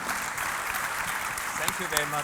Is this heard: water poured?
no